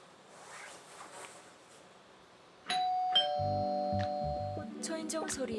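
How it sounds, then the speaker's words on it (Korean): An early-morning doorbell announces a parcel delivery: after a quiet stretch, a clear electronic chime rings out with sustained ding tones, followed by a few light clicks. "초인종 소리에 눈을 떴습니다."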